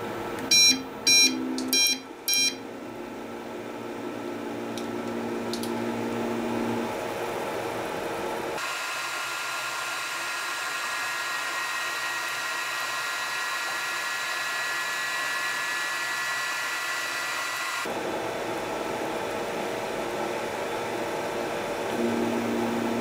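A Tronxy XY-3 Pro V2 printer runs as a laser engraver: a few short beeps open, then a steady whirring fan-like hum with sustained tones that shifts in character twice.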